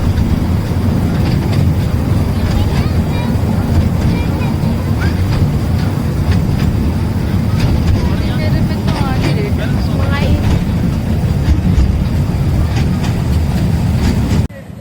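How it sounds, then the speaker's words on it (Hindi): Amusement park ride train in a park in Bhopal running steadily, a continuous rumbling rattle of wheels and carriages throughout, with faint voices mixed in. "तो इस ट्रेन के थ्रू हमें पूरी पार्क की राइड करने को मिलती है।"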